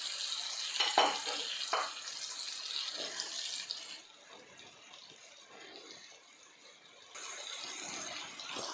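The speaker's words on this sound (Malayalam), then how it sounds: "ഇട്ടതൊന്ന് ചെറുതായിട്ടൊന്ന് ഫ്രൈ ചെയ്യാം" Afghani chicken fries in a pan, giving a soft, steady sizzling hiss that swells and eases over several seconds, with a few brief scrapes near the start and no talking.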